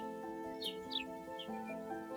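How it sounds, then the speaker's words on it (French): Songbird chirps in the distance, a few thin high calls scattered over a steady hum of background noise. "un oiseau qui chante encore un peu plus loin"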